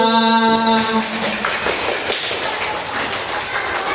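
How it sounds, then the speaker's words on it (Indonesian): A class of fifth-grade students applauding, a dense continuous wash of many hands clapping after a brief tonal voice at the start, loud and sustained to the end. "Tepuk tangan untuk kelas 5."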